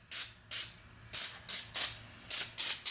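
Degreaser is sprayed onto a dirty engine sensor in eight short, sharp bursts of hissing, each about a quarter second long, close and clear with no talking.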